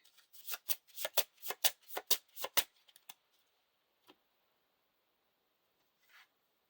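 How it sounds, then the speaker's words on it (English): A deck of playing cards is shuffled close by, with a quick run of crisp riffles followed by a few scattered soft taps, then near silence. "Shuffle the encounter deck."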